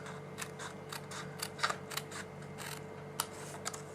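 Scissors make a run of quick, close snips and crisp clicks while trimming a cardstock panel along a score line for a mini criss-cross box, in a quiet room.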